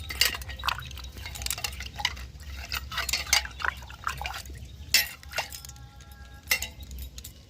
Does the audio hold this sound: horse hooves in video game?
no